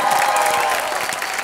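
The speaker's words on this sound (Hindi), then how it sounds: "इंस्पेक्टर मैडम के लिए जोरदार तालियां हो जाए" A studio audience at a Hindi comedy show bursts into loud applause for the inspector madam, a dense, continuous wash of clapping with some crowd noise mixed in, brief and close.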